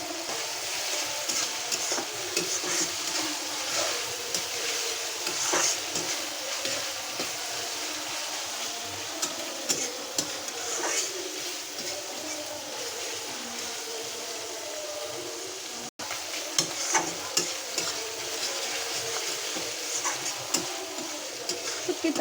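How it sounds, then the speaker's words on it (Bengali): Onion and spices sizzle and crackle in a pan as they fry for a dried fish curry, with steady frying hiss and occasional stirring scrapes, close and continuous, no talking. "শুটকির তরকারির মশলাটা পেঁয়াজটা একটু ভালো করে ভাজা ভাজা করে নিলে এরকম করে, এতে কিন্তু স্বাদ হয়"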